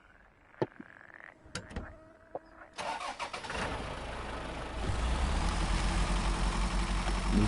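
A tractor engine in the SnowRunner video game cranks with a few sputtering clicks and knocks, then catches and settles into a steady, loud diesel rumble that grows fuller and heavier toward the end.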